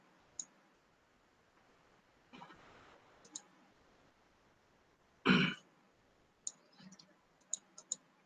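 Sharp computer mouse clicks, scattered singly and in quick pairs, near and fairly quiet, with a burst of throat clearing or rustle in the middle and no talking.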